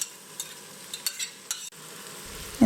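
Cooked chow chow and chana dal are stirred together in a pan for a kootu, with a soft background hiss and a few quiet scrapes and taps of the spoon.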